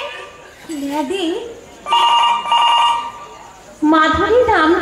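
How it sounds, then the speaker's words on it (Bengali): A telephone rings in short, repeated bursts during a stage play at a school spring festival, with people talking over and between the rings. "আরে ফোনটা ধরো"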